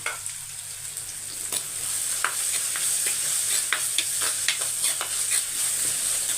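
Onions sautéing in a pan, a steady sizzling hiss broken by a few distinct scrapes of a spoon stirring, close and moderately loud, no voices.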